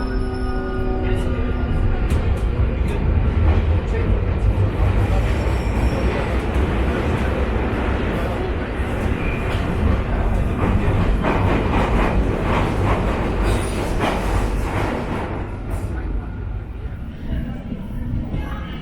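A London Underground Northern Line train runs steadily for a long stretch, with continuous rumbling, rattling wheels and occasional squeals, heard from close by.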